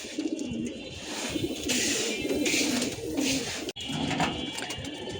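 Pigeons coo steadily at feeding time while a tray of mixed grain and paddy feed is set out, a dense flock of low, throaty burbling calls overlapping continuously, with a brief sharp click partway through.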